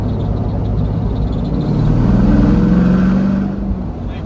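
An LS-swapped Firebird with a suspected fuel pressure problem pulls at half throttle, its engine drone loud and close, rising in pitch as it accelerates, then easing off slightly.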